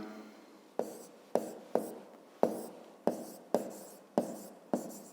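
Pen writing by hand on paper while a fifth-grade geometry exercise is worked out: a series of about nine sharp strokes, each starting with a crisp onset and fading into a scratchy tail, close and dry, no talk.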